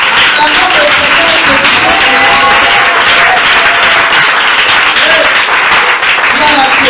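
Church congregation applauding steadily for several seconds, a loud, dense wash of clapping with voices and singing mixed in throughout.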